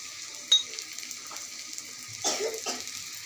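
Turmeric, chilli and spices sautéing with dried fish in a pan, a soft low sizzle with faint stirring scrapes, quiet and close, a couple of brief louder stirs near the end.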